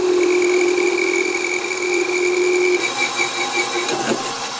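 A metal lathe spindle spins fast while a part-off tool cuts into an interrupted workpiece, giving a steady loud whine with sustained tonal hum, shifting near the end as the cut bites and chatters.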